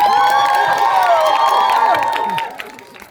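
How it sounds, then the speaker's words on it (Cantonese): A cinema audience at an opening-day thank-you event for the film cheers and claps for the actors, loud whoops and shouts over applause that fade out toward the end. "俾啲掌聲我啲演員"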